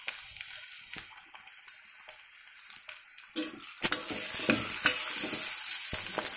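Chana dal frying in a pan, the sizzle building from a sparse crackle into a loud, continuous hiss, with stirring scrapes and a few utensil knocks throughout.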